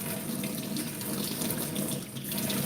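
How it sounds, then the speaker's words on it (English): A kitchen tap runs steadily into a sink, a loud close-up hiss and splash that holds unbroken for a few seconds with no talking. "let me just wait for the warm water"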